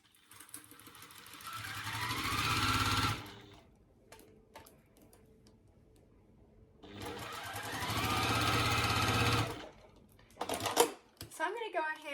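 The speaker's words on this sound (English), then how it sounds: "let's go ahead and sew these up" A sewing machine stitches quilt block pieces in two sustained runs of rapid, steady mechanical whirring, separated by quieter pauses with small clicks and handling noises near the end.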